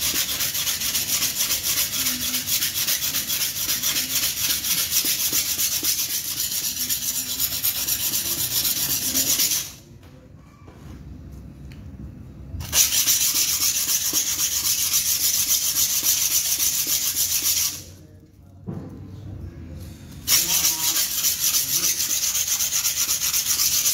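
An HSS steel grass-cutter blade is rubbed steadily over a soaked blue #240 corundum whetstone in a continuous close scraping rhythm, with two short pauses between stretches of strokes.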